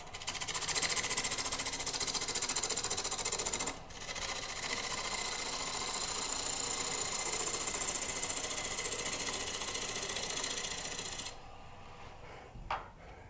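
A wood lathe spins at about 900 RPM, turning a bowl or box blank with a steady, loud machine drone and grinding cut texture, which briefly dips near four seconds and drops to a quieter hum for the last two seconds.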